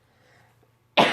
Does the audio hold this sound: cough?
yes